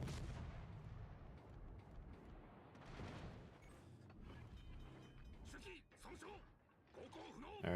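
Ship cannon fire in a naval battle video game, a series of booming shots and mechanical clanks mixed with game effects, with someone talking over parts of it.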